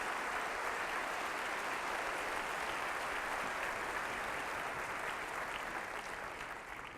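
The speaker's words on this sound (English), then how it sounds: "Another round of applause, please." A large audience at a school district State of the District event gives students sustained applause, a continuous dense wash of clapping that sounds distant and even before easing slightly at the end.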